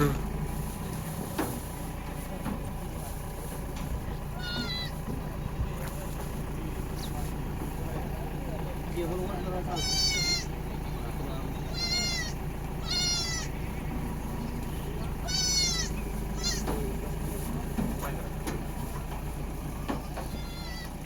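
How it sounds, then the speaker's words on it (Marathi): Goats bleat repeatedly in short wavering calls over a steady low rumble of a moving vehicle, with voices murmuring in the background. "पंधरा शेळ्या चालल्या"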